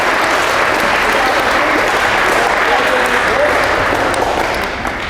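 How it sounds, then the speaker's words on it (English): An audience gives parents a full, loud round of applause, dense continuous clapping from a large crowd that holds steady for about five seconds, with some voices underneath. "You guys give your parents a round of applause."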